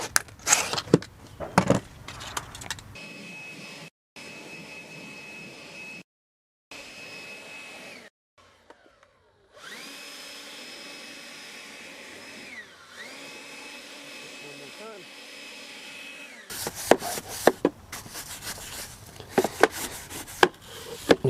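A belt sander works across wood, its steady whirring drone broken by short cuts and silent gaps, with bursts of scraping and knocking at the start and finish.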